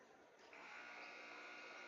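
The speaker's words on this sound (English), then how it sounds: "And the buzzer you hear in the background means that's a final score." At a high school boys basketball game between Lewis County and Boyd County, the final buzzer sounds as one loud, sustained electronic blare that starts abruptly and holds steady to the end.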